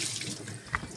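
Cold water pours steadily from a kitchen tap while raspberry jam is being made, a constant close hiss and splash with one brief brighter drip near the end and no speech.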